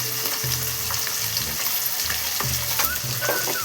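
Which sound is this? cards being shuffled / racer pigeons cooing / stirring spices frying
stirring spices frying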